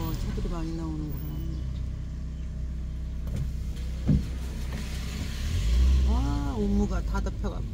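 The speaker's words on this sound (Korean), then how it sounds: "차들이 많이 나오는구나." Cars on a road during the morning commute pass close by, with engine rumble swelling and fading and one vehicle growing louder toward the end, while someone talks over the traffic.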